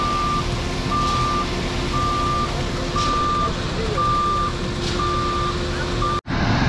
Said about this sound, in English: It looks like truck number two is going to pour the footers.